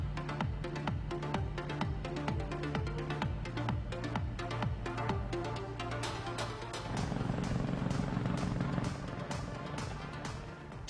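A helicopter's rotor thumps in a steady fast rhythm, loud and close, with the engine whine rising and thickening partway through as it hovers on station; no voices.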